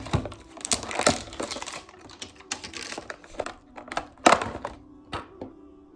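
Crinkly plastic packaging of Medjool dates made in California is opened up close, with sharp crackles, taps and thunks in irregular bursts and no talking.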